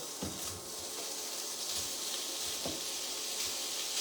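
Chorizo frying in a pan gives a quiet, steady sizzle with a few soft clicks and pops scattered through it.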